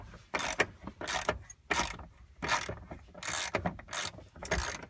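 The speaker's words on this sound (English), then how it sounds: "So I'm going to go ahead and break this bolt, which is once again a 16." A ratchet wrench breaking loose a 16 mm harness bolt in a Mitsubishi Evo 9 MR interior, giving a run of sharp, rapid clicking bursts repeated about seven times in a quick rhythm, close and clear.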